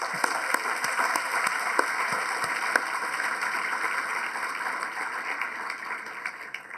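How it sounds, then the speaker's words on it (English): An audience claps steadily through the whole stretch at an alumni awards ceremony in a hall, a dense, moderately loud applause that thins slightly toward the end. "please join me in another round of applause for all of our alumni tonight in attendance"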